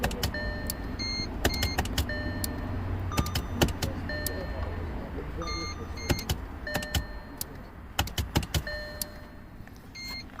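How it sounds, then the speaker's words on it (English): Inside a 2012 Audi Q5 with an electrical fault, sharp relay clicks sound in scattered bursts, some in quick clusters, over a low interior hum with faint voices talking. "I hear it clicking now every time too."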